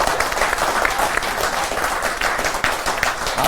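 A crowd at an Independence Day poetry gathering at the Red Fort gives a poet loud applause: many hands clap in a thick, continuous roar at a steady level from start to finish, with no clear speech.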